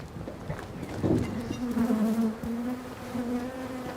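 Honeybees hum steadily around beehives out in a field, a close, continuous droning buzz with a few louder passes of individual bees, no speech.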